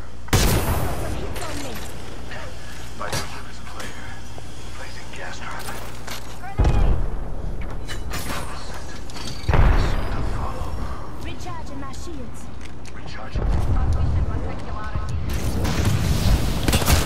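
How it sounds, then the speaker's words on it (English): Gunfire and grenade explosions in a multiplayer shooter video game, with several loud, sudden blasts and bursts of shots breaking through quieter stretches, and players talking in between. "Where are these fucking grenades coming from?"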